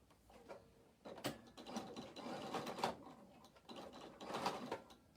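A sewing machine runs a straight stitch through denim scrap, giving a rapid mechanical clatter in several bursts with brief pauses between them, loud and close with no talking.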